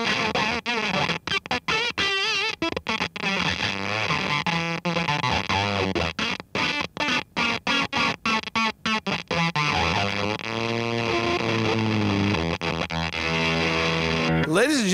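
An MXR Classic 108 Fuzz pedal with its input buffer switched off freaks out into loud, sputtering, heavily distorted fuzz, choppy bursts and gated dropouts breaking up a harsh, wavering electric guitar tone before it swells into a steadier drone.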